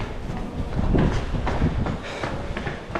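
A London Underground tube train running, a low rumbling roar with a rhythmic clatter of wheels that swells and fades slightly, heard from inside the carriage with no talking.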